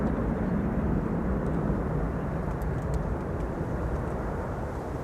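Landing aircraft at Schiphol's Kaagbaan runway applying thrust reversers, heard as a continuous, heavy, rumbling roar at a fairly even level, moderately distant and thick in low tones.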